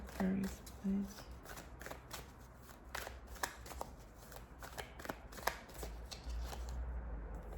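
Tarot cards are shuffled by hand in a continuous papery riffle and slide that runs for several seconds, close and fairly quiet, with no talking over it.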